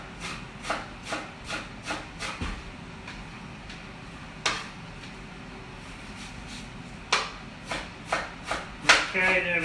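Onion being diced with a knife on a wooden board for risotto in a hotel kitchen, a steady series of crisp chopping taps with a pause midway, close and clear with little else around.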